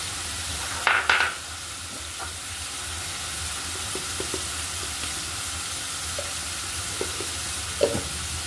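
Coconut, nuts and black and white raisins fried in a pan for semai give a continuous sizzle, broken by a few sharp scrapes and clinks near the start and end.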